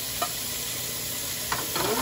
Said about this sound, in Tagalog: Maglalagay na po tayo ng bawang at sibuyas.